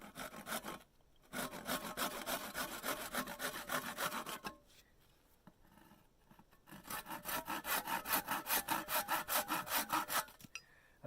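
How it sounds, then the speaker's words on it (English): Hand saw cutting wooden planks outdoors in the mountains for a bushcraft table, rapid rhythmic back-and-forth strokes in two long bursts separated by a pause, close and clear with no talking. "Just get my saw here."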